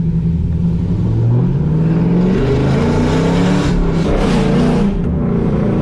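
A loud straight-piped car exhaust revs and roars close by, deep rumbling rising and falling through a few throttle blips with no talking.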